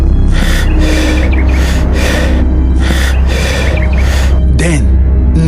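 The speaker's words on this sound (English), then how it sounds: "Only the sound of their heavy breathing filled the air." Heavy, rhythmic breathing, loud and close, in repeated gasping breaths over a constant low background rumble.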